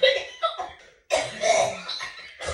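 A woman coughs in a few rough, raspy bursts, with a brief quiet gap between them and a hint of laughter.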